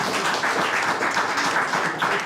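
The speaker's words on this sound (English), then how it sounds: "No, please don't clap between poems." Audience applause at a poetry reading, a steady burst of many hands clapping at moderate loudness, continuous and without voices.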